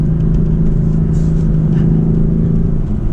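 Loud, close engine drone from a BMW M4 F83 Convertible, a steady low rumble with slight rises in pitch as it runs through the gears with rev-matching.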